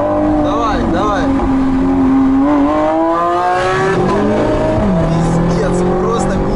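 A Lamborghini Aventador engine roars loudly and continuously at around 250 km/h on a highway run from Sochi to Krasnodar, heard from inside the car with a window open, its pitch rising and falling under a voice talking over it.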